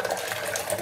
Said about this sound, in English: So I'm just pouring off.